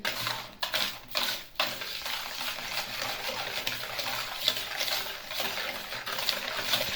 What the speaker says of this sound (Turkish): Bunları bu güzelce çırpayım